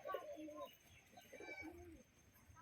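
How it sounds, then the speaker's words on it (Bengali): Mixed pigeons in a loft, including biscuit-coloured and racer types, cooing softly while being fed, with a few rolling coos and faint chirps at low volume. "তো এখানে সব পায়রাকে খাবার দেওয়া হচ্ছে"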